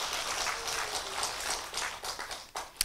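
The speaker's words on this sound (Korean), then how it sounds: "그럼 행복하시면 박수 한번 쳐보세요" A gathering at a Buddhist temple dharma talk claps in response to a monk's invitation. The patter is moderate and uneven, thinning out with a few louder isolated claps near the end, and no one speaks over it.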